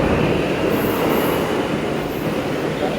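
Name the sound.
metro train at RK Ashram metro station, Delhi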